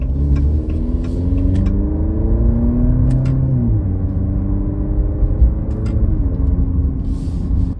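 A 2023 Maserati Grecale's 2-liter turbocharged four-cylinder accelerates hard from inside the cabin, its engine note climbing steadily through a gear, dropping at a shift, then climbing again, loud and smooth with no talking.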